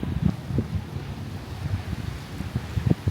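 Strong wind buffets the microphone in uneven low rumbling gusts on a beach in Doha, Qatar, continuous and close, with no voices.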